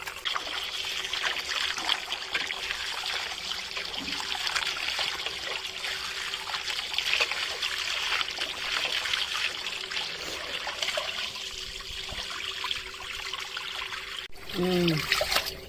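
Tap water runs steadily over raw fish pieces being rinsed of salt and lemon juice for a fish curry, a continuous close trickle and splash lasting throughout, with a brief clatter near the end.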